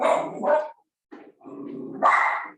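A small dog barks a few times in quick bursts, close and loud, with short pauses between the yaps.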